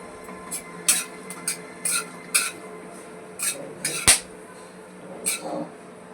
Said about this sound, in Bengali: লবঙ্গটা ফাটছে।